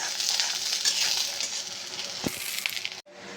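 Spice paste for a loitta (Bombay duck) fish bhuna sizzles and hisses steadily in hot oil, with a few stirring scrapes and a brief clatter near the end before a sharp cut.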